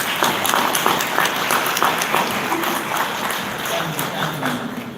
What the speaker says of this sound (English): So he deserves a big clap from us.